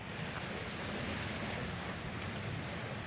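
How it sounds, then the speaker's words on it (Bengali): Strong wind roars steadily through village trees during a rainy storm, a dense, unbroken rushing that stays loud and even throughout, with no voices. "তো দেখতেই পারছো গাছগুলো অনেক হাওয়া উঠেছে"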